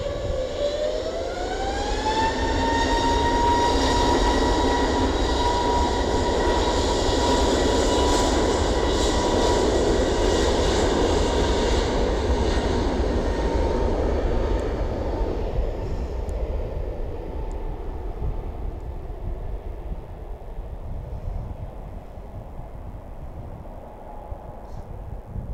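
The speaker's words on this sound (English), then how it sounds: "This is the EasyJet flying out to Santorini, engines powering up." An EasyJet airliner bound for Santorini spools up its jet engines for departure, a loud rising whine with a roaring rumble that holds steady, then fades as the aircraft rolls away.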